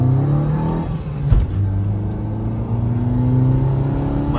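A Maruti Baleno and a Celerio accelerate side by side in a drag race. Their engines rev loud and close, rising in pitch as they pull through the gears, with a brief dip as one shifts.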